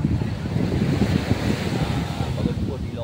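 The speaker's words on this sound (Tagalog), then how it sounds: "Nandito na ako sa tabi ng dagat." Sea surf washes steadily onto a beach at Saud, Ilocos Norte, a continuous broadband roar mixed with wind buffeting the microphone, loud and close throughout.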